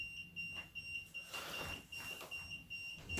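An electronic device emits a high, steady beeping tone in repeated short pulses, fairly faint against a low background hiss.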